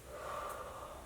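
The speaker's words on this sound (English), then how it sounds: "Exhale it out." Steady breathy exhale during a pregnancy-friendly upper body workout, a single sustained airy breath out lasting about a second, close and fairly quiet with no talking over it.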